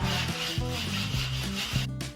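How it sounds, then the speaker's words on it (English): Light hand sanding gives steady back-and-forth rubbing strokes, close and fairly loud, against a humming tonal background, with no talking. "Just give them a little light sanding"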